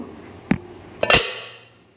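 Roasted biryani spice mix being ground in a kitchen, heard as a few sharp hard knocks and a brief rattling clatter, fairly close and without talk.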